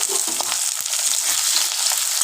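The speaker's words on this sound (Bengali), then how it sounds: "আলুটা বেশ ভালোভাবে ভাজা হবে।" Potato pieces frying in hot oil in a pan after a tempering for a fish-roe kofta curry, a steady bright sizzle with faint stirring scrapes, close and continuous.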